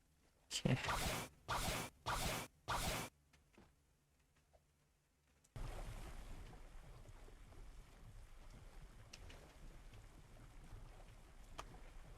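A boat sailing on open water in Roblox Blox Fruits gives a steady game wash of water and wind after a few short, sharp bursts of sound at the start and a brief quiet gap.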